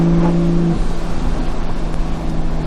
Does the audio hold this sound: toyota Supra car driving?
yes